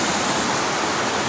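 Broadband, steady rushing roar of a 60-metre waterfall at Cascadas de Bucay, surrounded by thick vegetation, loud and constant with no talk.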